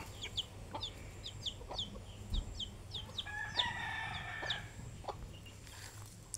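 Village chickens cluck in quick, repeated bursts while a rooster gives one long crow in the middle, all fairly close over a low background hum, with no voices.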